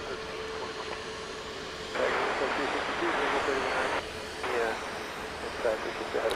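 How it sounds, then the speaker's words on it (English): Southwest Boeing 737 MAX 8 jet at Dallas Love Field, a distant whining jet engine roar that swells and fades in waves, with steady background noise. "Coming into view just in front of us here, Southwest flight 2334. There it is, off to St. Louis, a MAX 8"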